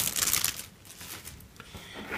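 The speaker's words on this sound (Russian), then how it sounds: "Бумажки откладываем в сторону." Paper inserts from the box of a Real-El Standard 501 keyboard set aside during unboxing, giving a brief, soft, close crinkling and rustling.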